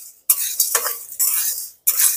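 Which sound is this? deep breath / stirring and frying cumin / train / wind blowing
stirring and frying cumin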